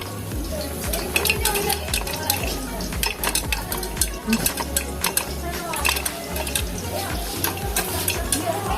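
Popcorn kernels popping inside a covered pot on a home stove, a dense scatter of sharp pops and clatter against the metal, fairly close and busy throughout.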